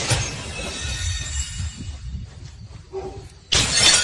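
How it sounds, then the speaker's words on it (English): Glass shatters loudly as windows are smashed with a baseball bat, a crashing burst at the start and another at the end with debris crunching in between. "the sound you're hearing is she's smashing windows"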